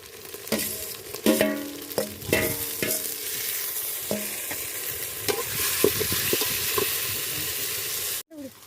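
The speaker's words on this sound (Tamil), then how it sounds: "இப்போ வந்து நல்லா தக்காளி வெங்காயம்லாம் நல்லா வதங்கிடுச்சு." Tomatoes and onions sauté in a pan with a steady hiss and sizzle, while a spoon clatters and scrapes in repeated strokes, close and clear, before an abrupt cut at the end.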